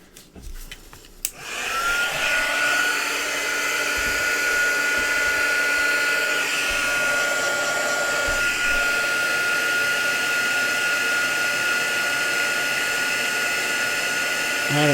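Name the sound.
heat tool (embossing heat gun) running while warming up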